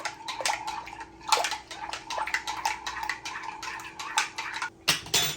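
Chicken bouillon and water stirred in a pan with a utensil, a rapid run of close metallic scrapes and clinks in quick rhythm, pausing briefly near the end before a final few strokes.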